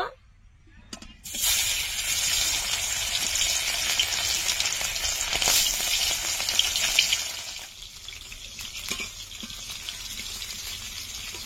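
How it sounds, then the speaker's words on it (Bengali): Fish dropped into hot oil in a wok bursts into a loud, close sizzle that holds steady and then eases slightly toward the end. "তেল গরম হয়ে গেছে, মাছগুলো দিয়ে দেব।"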